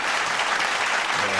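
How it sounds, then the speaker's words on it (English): A podcast audience clapping in a short, dense burst of applause, fairly loud and close, ending as a voice begins to speak. "let's clap that up"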